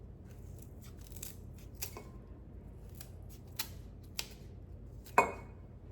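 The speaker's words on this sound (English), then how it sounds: "make sure you have some good heavy duty scissors for this job" Quiet snipping of heavy-duty scissors cutting echinacea flower heads, a few sharp cuts spaced apart against a faint background hiss, the last snip the loudest.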